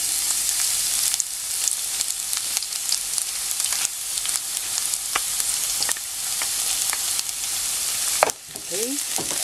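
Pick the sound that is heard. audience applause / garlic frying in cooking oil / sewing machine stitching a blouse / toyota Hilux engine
garlic frying in cooking oil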